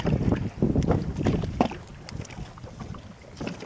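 Wind buffets the microphone on a boat roughly thirty miles out at sea, gusting in uneven rushes with low rumbling hull and water noise close by.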